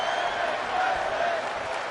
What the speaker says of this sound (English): This capacity crowd on their feet.